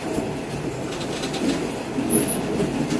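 Passenger train on the Curitiba–Morretes mountain railway in Brazil, a line with many tunnels, running steadily with a low rumble and faint clickety-clack of wheels. A brief high squeal rises partway through.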